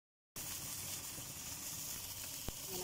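Tamban fish pan-grilled in a hot pan with no oil gives a steady, close sizzle that starts abruptly and runs evenly, with one brief sharp crackle near the end.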